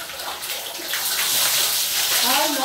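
Shower water runs in a steady, close hiss of spray that swells slightly louder partway through.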